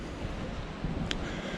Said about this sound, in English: it's getting windy around here now